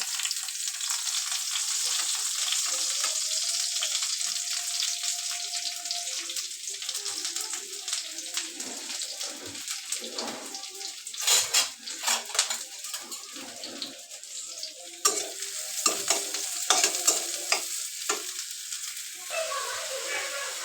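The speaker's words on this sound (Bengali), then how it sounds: "তো তেলটা দিয়ে দিছি চুলায় অবশ্য ভাজিটা বসানোর জন্য পেঁয়াজটি দিয়ে দেবো" Onion sizzles in hot oil in a pan, a steady close frying hiss with occasional stirring scrapes and clinks growing busier toward the end.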